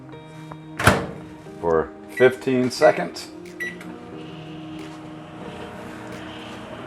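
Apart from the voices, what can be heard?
microwave oven door closed and microwave running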